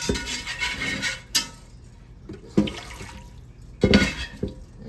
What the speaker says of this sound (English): Let me get some water and rinse all this extra.